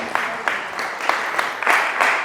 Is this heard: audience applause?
yes